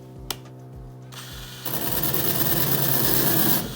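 A cordless DeWalt grinder with a knot wheel works a bare metal truck cab roof on a 1966 Chevy C10, a brief whir and ticking before the wheel bites into a loud, steady, gritty hiss.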